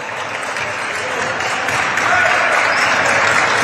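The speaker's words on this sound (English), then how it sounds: "Vols bench clapping it up." Tennessee Vols players on the bench clap during a college basketball game against Appalachian State. The clapping comes as a dense, steady wash, loud and continuous throughout, with no clear break.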